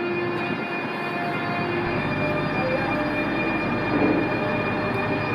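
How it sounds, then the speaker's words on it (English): A Eurostar train pulls out of St. Pancras station bound for Paris, giving a steady mechanical rumble with faint sustained electric whine and hum, heard from the platform under station ambience and without speech. "A Eurostar train leaving for Paris."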